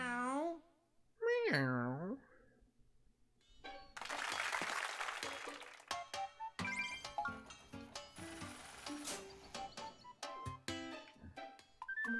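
An orange cat meows twice near the start, with rising and falling cries. A burst of game sound and applause-like noise follows, then clattering effects and voices talking.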